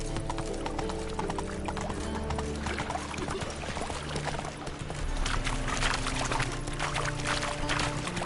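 Horse hooves clip-clop in a steady walking rhythm under a PS4 video game soundscape, the clear repeated footfalls sitting over a low ambient bed with a faint watery wash throughout.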